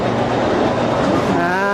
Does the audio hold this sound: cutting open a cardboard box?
no